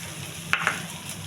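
Grated mango frying in a pan with mustard seeds, urad dal and curry leaves gives a steady low sizzle, broken by two quick stirring clicks near the middle.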